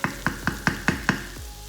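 Flour is stirred into a sizzling pan of cottage pie filling with six quick, evenly spaced scraping strokes close by, over a steady soft frying hiss.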